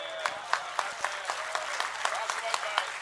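Audience at a talk applauding steadily, a dense spread of clapping from a crowd held at an even level throughout, with a voice speaking over it.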